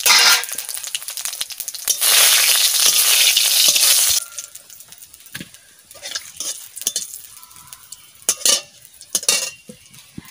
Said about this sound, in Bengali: সর্ষের তেল দিয়ে দিলাম, তেজপাতা আর শুকনো লঙ্কা জিরা একসাথে দিয়ে দিচ্ছি।